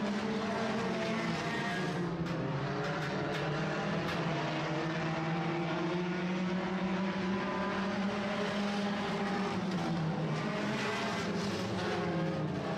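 Sport compact race cars lapping the El Paso County Raceway speedway, a steady distant engine drone that rises and falls in pitch as the pack passes, faint and continuous throughout.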